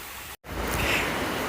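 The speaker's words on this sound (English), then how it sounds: "More waterfalls." Dense, steady rush of a waterfall on the Appalachian Trail filling the scene, broken by a brief dropout near the start, then continuing loud and unbroken.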